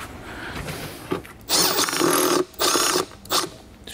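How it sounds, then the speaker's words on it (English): A power drill drives screws into an AeroCreeper mechanic's creeper, with several loud whirring bursts of about a second each separated by short pauses, heard up close without talk. "Let's put all the screws in."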